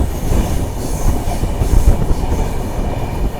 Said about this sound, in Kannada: ನಮ್ಮದು ಡೀಸೆಲ್ ಲೋಕೋಮೋಟಿವ್ ನೋಡ್ರಿ.